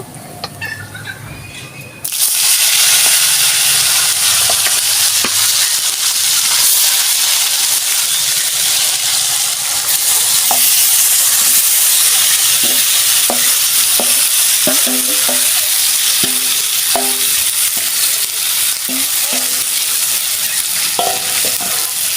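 Marinated chicken with onion, tomato, chilli, turmeric and Kashmiri chilli hits a hot pan with a sudden loud sizzle, then fries continuously while a spoon scrapes and stirs it, close up with intermittent clinks against the pan.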